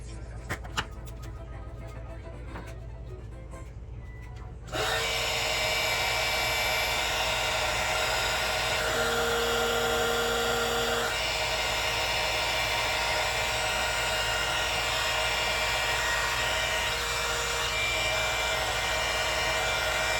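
Heat gun shrinking heat-shrink tubing over wires on a homemade fan for a Traxxas X-Maxx RC truck, a loud steady blowing whine that starts abruptly after quieter handling clicks and runs continuously, with a brief tonal shift partway through.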